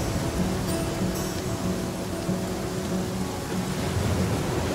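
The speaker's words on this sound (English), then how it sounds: "Oh my god, the thunder." Steady rain hisses down in the video game The Flame in the Flood, a dense, even wash of noise with a faint low rumble of thunder underneath, continuous and fairly loud throughout.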